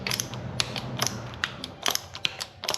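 Shock absorber adjuster on a motorbike being cranked fully tight by hand, giving a run of sharp ratcheting clicks and metallic mechanism ticks at close range, unevenly spaced, over a low background hum with no talking.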